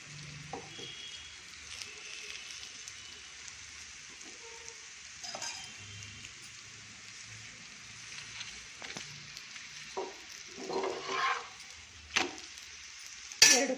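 A chapati roasts in a little oil on a hot pan with a soft, steady sizzle, broken by occasional clinks and scrapes of a utensil; there is no talk.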